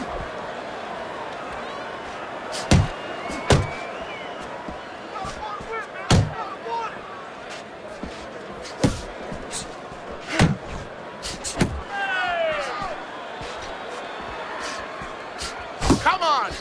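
Punches landing in the boxing video game Fight Night Champion, about a dozen sharp heavy thuds spaced irregularly over a commentator's ongoing play-by-play talk and a low arena murmur.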